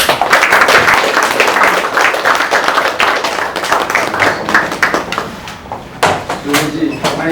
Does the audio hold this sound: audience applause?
yes